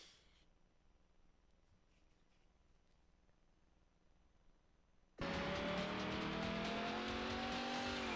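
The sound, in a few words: race cars drifting in Need For Speed Hot Pursuit 2 video game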